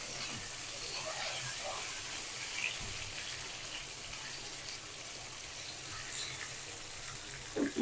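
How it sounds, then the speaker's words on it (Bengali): Potatoes fry in hot mustard oil in a cooking pot, giving a steady, moderately loud hiss and crackle that runs unbroken through the whole stretch, with a few faint knocks and no voice. "আলুটা ভেজে নিব।"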